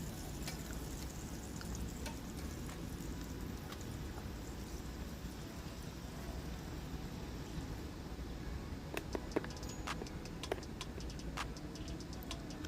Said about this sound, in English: while my chicken finished frying